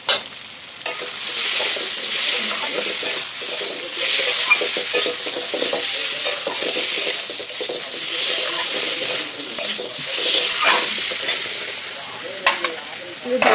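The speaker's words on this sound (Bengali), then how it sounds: "আলুটা একটু ভাজা হোক" Potatoes with ginger paste fry loudly in oil in a wok over a wood fire, with a continuous close sizzle and repeated scraping strokes of a spatula stirring them, plus a few metallic clinks.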